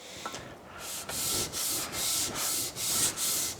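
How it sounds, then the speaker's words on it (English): The sole of a Starrett 199 precision level being lapped flat, a rhythmic back-and-forth gritty rubbing in about seven even strokes, close and loud with no voices. "So I think I'm going to lap it a little bit more."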